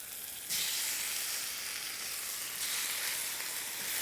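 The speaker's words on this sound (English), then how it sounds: "All right, the onions are becoming translucent. Let's go ahead and start cooking the bulgogi." Shaved bulgogi beef hitting a hot pan with onions, a sudden loud sizzle that flares up and holds as a steady bright frying hiss, close and alone without talk.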